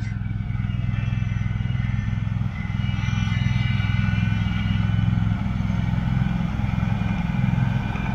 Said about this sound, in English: here comes our first buggy